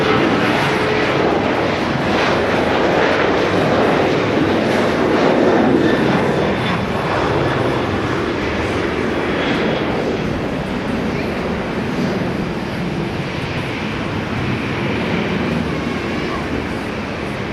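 An Air India airliner passes at Haneda Airport, its engines a loud, sustained broadband roar that swells and slowly fades over the whole stretch, heard without speech.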